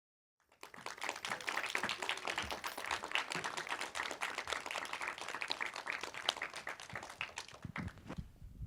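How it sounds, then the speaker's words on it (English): An audience at a film premiere bursts into sustained applause, many hands clapping steadily at a moderate distance before it cuts off. "please give us a round of applause"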